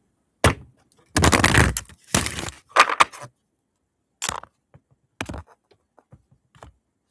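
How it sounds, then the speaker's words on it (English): Tarot cards being shuffled by hand, a few quick riffling bursts early on followed by sparse, faint card taps and slaps, close and alone with no talking. "Okay, I'll shuffle one more time."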